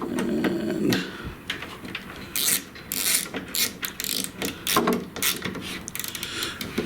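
Small metal screw on a model aircraft stabilator tightened with a 3mm wrench, giving a series of short, close clicking and ratcheting taps in an irregular rhythm with no talk.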